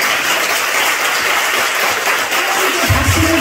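A church congregation applauds steadily and densely throughout, a dense wash of clapping hands with no gaps, loud and close.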